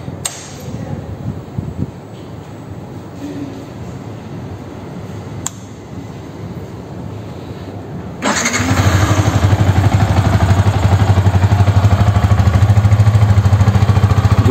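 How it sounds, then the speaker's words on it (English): A Yamaha R15 BS6 motorcycle engine starts up partway through, then settles into a loud, steady exhaust idle close by, with quieter handling noises before ignition. "exhaust sound of all new BS6"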